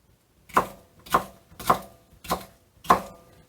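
A knife cuts steak into small pieces, landing five clear, evenly spaced slices on a board, each a close, crisp thud with short gaps of quiet between.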